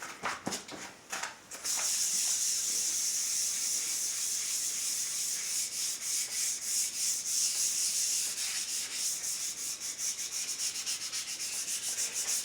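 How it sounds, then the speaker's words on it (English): Steady hand sanding on the gloss finish of a vintage Gibson Les Paul Custom guitar, a continuous close, rough rubbing scrape with rhythmic strokes, starting after a few quick passes and running without talk. "I keep sanding and keep sanding and keep sanding"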